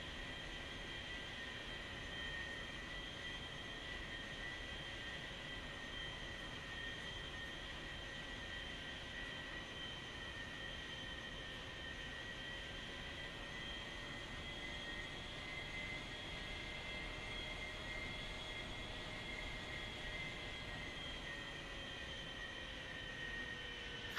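Aircraft engine during a landing approach, a steady droning whine with sustained tonal hum that shifts slightly in pitch, continuous and moderately loud with no talking.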